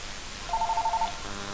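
A telephone rings in a homebrew supply shop, a short rapid trill of evenly spaced electronic pulses repeated about eight times, moderately loud over a quiet background.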